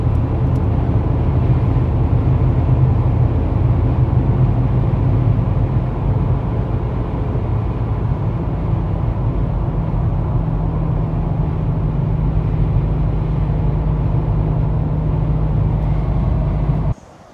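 Truck cruising at highway speed while towing a trailer on the road, a continuous loud low rumble of engine, tires and wind that holds steady throughout, with no talking.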